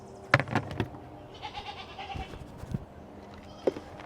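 A goat kid bleats in short, sharp cries near the start and again near the end, close by, with faint rustling and no talk.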